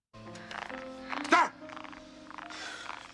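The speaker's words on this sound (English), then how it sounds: "that darn frog pops up again" A frog croaks from a movie scene in a few short, throaty bursts, with one loud croak near the middle. Music plays underneath, and a few other voice-like sounds mix in.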